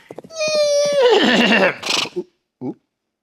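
A horse gives one loud, close whinny that rises and then trails down into a shaky neigh, with a short snort after it.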